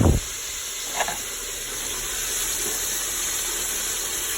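Sauce poured into a hot pan of browning beef ragu gives a sharp burst of steam at the start, then a steady loud hiss and sizzle that holds on to the end.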